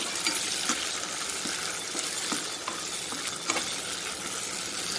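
Tomatoes hit hot oil already sizzling with garlic and green chilies, giving a steady, close frying hiss that runs the whole time, broken by a few soft stirring scrapes.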